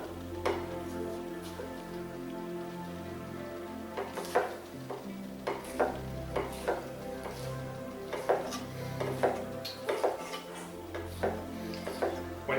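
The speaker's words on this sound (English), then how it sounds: "I'm going to give these a good little chop" Vegetables such as carrots and celery for macaroni salad being chopped on a board, irregular close knife knocks in short bursts over quiet background music.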